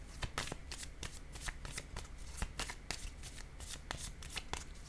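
Tarot cards are shuffled close up, with a quick irregular run of crisp riffling snaps and slaps lasting throughout, quiet and without talk.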